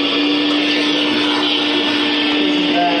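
Vacuum cleaner in a prison escape video game, a loud continuous motor whine with a steady tone, holding unchanged from start to finish with no pauses.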